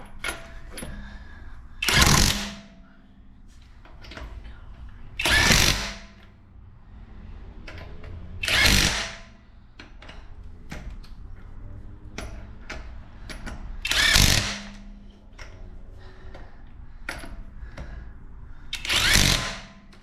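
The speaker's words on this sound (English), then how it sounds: "Now we're going to use our 1/2-inch impact wrench to tighten the lugs on the tire" Half-inch impact wrench tightening lug nuts on a 2013 Toyota Sienna wheel during a rear brake job, five loud separate bursts of hammering roughly every three seconds, with quieter shop clatter and faint tool noise between them.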